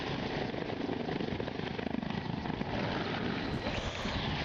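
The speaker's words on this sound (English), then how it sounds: "It's a big helicopter." A big helicopter flying: a steady, fairly faint rotor and engine drone with continuous chopping texture, distant and unbroken throughout.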